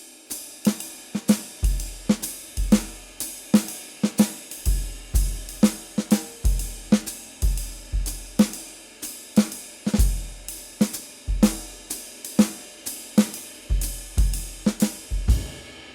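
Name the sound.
jazz drum comping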